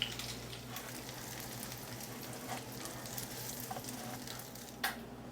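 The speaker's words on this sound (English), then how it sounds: "so I've pan fried my crab cakes in my skillet, about 2 to 3 minutes on each side" Crab cakes frying in hot grapeseed oil in a skillet give a steady, dense sizzle with soft crackles and a brief louder pop near the end, with no voices.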